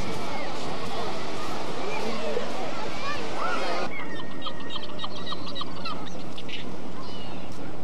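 Seagull calling outdoors on the English coast, loud harsh honking cries mixed with other bird calls and people talking nearby, the calls fading to softer chatter partway through.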